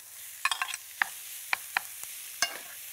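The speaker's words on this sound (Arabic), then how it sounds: "تقليبة سريعة" Seafood being quickly stirred in a buttered pan, a handful of sharp scraping clicks of a spoon against the pan over a faint sizzle, with no talk.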